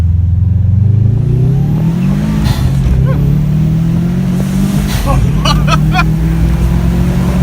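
Subaru WRX engine with a DC Sports ram air intake revving hard and rising in pitch, with quick turbo blow-off chirps near the end, loud and close, while people talk over it.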